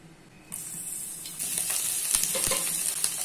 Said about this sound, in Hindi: यहाँ पे पैन में 2 चम्मच ऑयल गरम कर लिया है। अभी इसमें गोभी ऐड कर लेना है